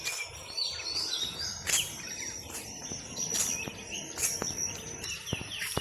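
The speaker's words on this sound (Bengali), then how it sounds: "রাস্তায় রাস্তায় যে পাখিতে ডাকাটাকি করতেছে" Birds call along a road, a mix of bright repeated chirps and tweets near and farther off over a soft bed of insect buzzing, with no voices.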